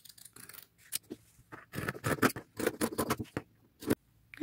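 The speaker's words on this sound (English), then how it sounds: "I'm going to trace this 4 times because this one will be lined with the denim, basically. And just get them cut out." Scissors cutting out traced fabric pattern pieces for a pair of denim-lined cargo jeans, a run of crisp, close snipping and crunching strokes in quick irregular bursts with short pauses between them.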